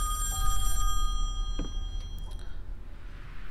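An old telephone bell rings in the horror video game Song of Horror, a sharp metallic trill that sounds briefly and fades into a dark, quiet ambience.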